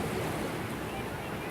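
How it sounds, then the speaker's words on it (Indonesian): Strong ocean waves at sea roll in a steady, dense roar with wind buffeting the microphone, loud and unbroken throughout the short stretch, with no voices. "ketika melihat ombak yang kencang seperti ini"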